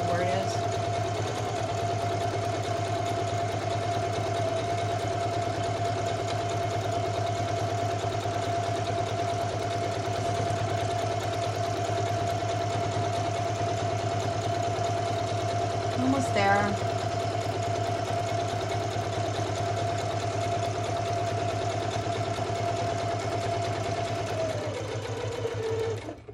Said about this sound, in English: My machine stops with the needle down, so I don't lose my spot